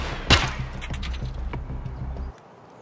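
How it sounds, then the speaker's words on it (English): A scav fires at the player in Escape from Tarkov: one sharp close gunshot, then a rapid rattle of follow-up shots and a few scattered cracks, before falling abruptly quiet. "But I'm now being shot by a scav"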